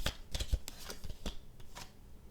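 Tarot cards are shuffled and squared up by hand in a quick run of soft, papery riffles and taps at close range, with no voices.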